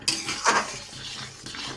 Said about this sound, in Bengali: এই পর্যায়ে একটু ভালো করে বারে বারে নাড়তে হবে